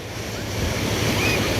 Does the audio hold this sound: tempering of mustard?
no